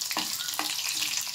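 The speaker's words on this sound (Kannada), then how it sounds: "ಇದಕ್ಕೆ ನಾನು ಜಜ್ಜಿದ 4 ಬೆಳ್ಳುಳ್ಳಿನ ಹಾಕೋತೀನಿ." Crushed garlic frying in hot oil for sambar, a faint close sizzle with two or three brief stirring scrapes over a short moment.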